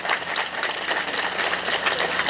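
An audience claps for a priest, Romo Martinus Renda, at a thanksgiving Mass, the applause steady and moderately loud throughout, with a few sharper individual claps standing out.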